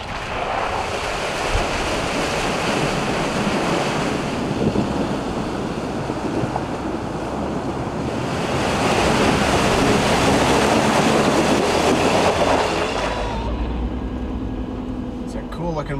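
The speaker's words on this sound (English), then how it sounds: "A little unexpected river crossing." An overland vehicle fords an unexpected clear river in Chile, with steady rushing water and wind buffeting close to the microphone that grow louder midway, then cut off to quieter cabin sound near the end, with people talking over it.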